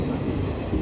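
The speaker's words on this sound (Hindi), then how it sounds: "ट्रेन शायद सब्जी मंडी पहुंची है" Delhi–Fazilka Intercity Express train arriving at Sabzi Mandi station: a brief, steady low rumble of rolling rail cars with faint wheel noise, close and continuous.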